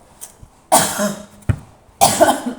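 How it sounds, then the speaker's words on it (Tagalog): Two separate bursts of coughing, close and fairly loud, with short quiet gaps around them. "may ubo po ako Kaya pag nagko-content ako, napapaubo ako"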